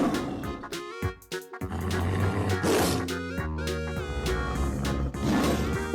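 A lion gives a loud, sustained roar that swells in repeated bursts over about six seconds, blended with a bright musical backing.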